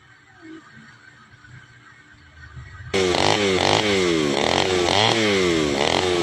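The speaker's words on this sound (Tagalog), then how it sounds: "Isang baltak lang po at tumakbo na po yung grass cutter mga kagengging." A repaired grass cutter's small two-stroke engine catches after one pull and runs loud and close with a pulsing, buzzy rumble, following a quieter stretch of faint background noise.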